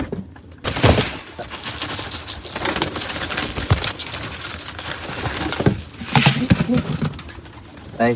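Pigeons coo close by in a loose, overlapping stream, their soft throaty calls steady for several seconds with a few sharper bursts and some flutter and rustle.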